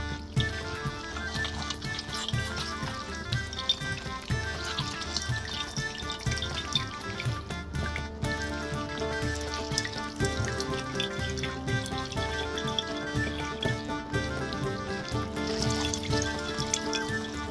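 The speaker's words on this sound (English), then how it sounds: "you'll squeeze out the excess water over a bowl" Water trickles and splashes steadily into a bowl as excess liquid is squeezed from cooked greens for a cockatrice oyakodon, a continuous close running sound under a dense background of music.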